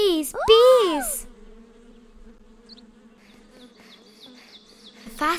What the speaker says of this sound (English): the sweet-smelling daisy attracted a swarm of bees